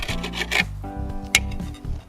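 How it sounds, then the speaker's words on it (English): A knife slices raw lamb shoulder chop into roughly one-inch kebab pieces on a board, giving a few close, short rasping cuts with a sharper tap near the middle. "you want to start by cutting it into pieces that are roughly 1 inch per side"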